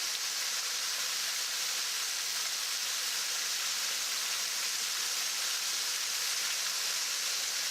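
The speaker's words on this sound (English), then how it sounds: "Very pretty waterfall." A waterfall along a West Virginia trail sends up a steady broadband rush of falling water, even and continuous, with no talking.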